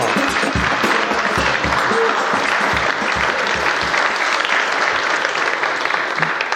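Live audience at a London car-podcast recording breaks into loud, sustained applause, dense clapping filling the room steadily from start to finish.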